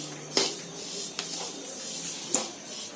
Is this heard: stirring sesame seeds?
yes